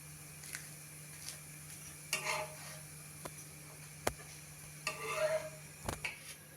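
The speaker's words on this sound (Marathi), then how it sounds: "उलटून एक दोन तीन सेकंद थोडासा त्या बाजूने पण भाजून घ्यायचा" A crispy tur dal dosa roasting on a hot pan after being flipped, with a soft sizzle and occasional scraping and tapping of a spatula, quiet and close, with no talking.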